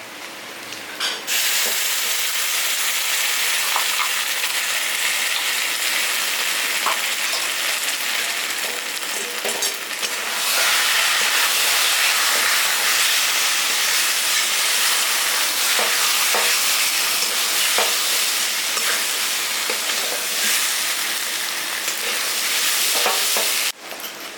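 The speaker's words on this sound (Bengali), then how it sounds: "মশলাটা আমার লাল হয়ে গেছে আমি দিয়ে দিচ্ছি ধনে জিরা বাটা" Mutton masala with ginger paste sizzles and fries loudly in a pan as coriander-cumin paste is added, a steady close hiss with stirring scrapes running throughout.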